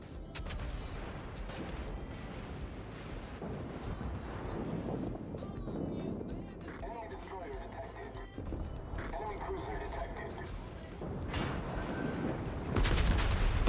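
The main guns of the German battleship Bayern fire in World of Warships as rumbling blasts and booms under wind noise and game sounds, while a player talks throughout.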